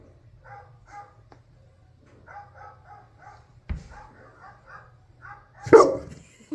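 A dog barks in short, repeated yips and whimpers, several small bursts in uneven groups, then one louder sharp bark near the end, with faint voices in the background.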